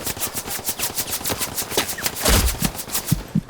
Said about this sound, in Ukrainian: Кулемет якось не попав.